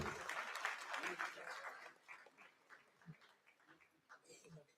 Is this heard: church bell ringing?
no